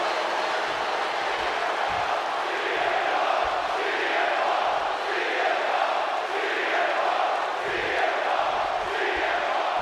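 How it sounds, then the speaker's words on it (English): Arena crowd in Chicago from the WWE 2K26 video game, a dense, steady roar of many voices with rhythmic swells like chanting, no commentary over it. "just listen to this crowd here in Chicago"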